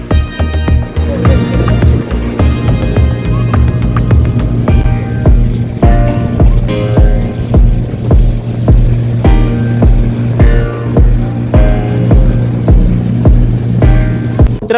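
A passenger boat heading into a harbour runs with a loud, constant engine drone, while water slaps against the hull and sprays over the riders in repeated splashes.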